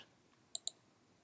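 Two crisp mouse clicks on a Mac, close together in quick succession, sharp and close in an otherwise quiet room.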